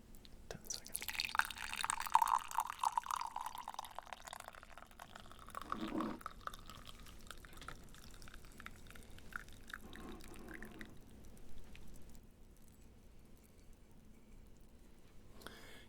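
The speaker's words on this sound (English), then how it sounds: "You can always hear by the tone of a liquid being poured, whether it's hot or not." Hot Taiwanese Tung Ting oolong tea is poured in a quiet indoor setting, a soft trickling stream that fades after a few seconds into faint drips and gentle splashes.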